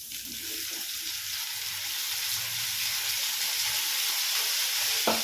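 Brinjal pieces frying in sesame oil for brinjal rice, a loud, even hiss of sizzling oil that holds steady throughout, with a brief clink near the end.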